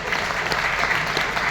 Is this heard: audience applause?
yes